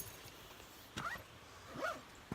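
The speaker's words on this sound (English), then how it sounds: "There's 2 dogs." Two dogs near a trailhead by a waterfall give a couple of short yips or barks, brief and moderately close over quiet outdoor background.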